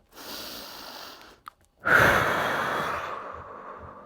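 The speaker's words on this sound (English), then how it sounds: "Breathing in through the nose, out through the mouth." Breath in through the nose, then a long, loud, close exhale out through the mouth, like a deep sigh, during a lower-back mobility workout.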